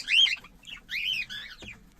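Bright, shrill cockatiel chirps from an aviary in a few short bursts, close and fairly loud, with brief gaps between calls.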